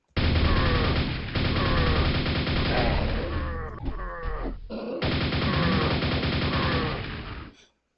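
Weapon fire in the video game Quake, a dense, loud barrage of repeated blasts forming a continuous roar, briefly breaking and dipping in the middle before resuming and cutting off abruptly.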